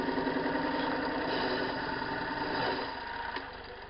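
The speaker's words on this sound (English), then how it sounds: "I decided that I'm going to increase that there counter bore diameter to 5/16 instead of a 1/4 inch" A small cordless screwdriver converted into a drill widens a counterbore hole from 1/4 to 5/16 inch, giving a steady, close mechanical whir with grinding texture that eases slightly near the end.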